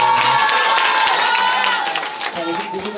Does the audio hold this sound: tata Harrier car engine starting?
no